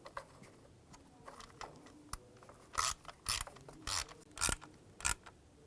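Hand ratchet tightening an ignition coil hold-down on a 2006-2010 BMW 550i 4.8L V8, a series of quick clicking bursts close up after quieter handling noises.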